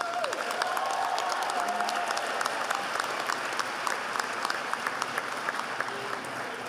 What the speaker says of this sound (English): Please give them a round of applause and appreciation for their support.